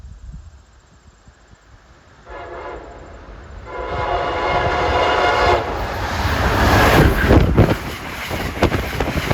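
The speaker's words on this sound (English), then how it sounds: "Approaching at 9:13 is a train heading for the North Country. It's 56th Vermonter from Washington to St." Amtrak Vermonter train 56 bound for St. Albans, Vermont, approaches, sounding its horn in long harmonic blasts that swell from a quiet start into a loud, close rumble of passing cars.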